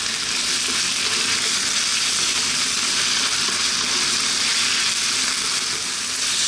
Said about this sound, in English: we're going to go for another 4 minutes, say, roughly, frying this around, again on a fairly lively heat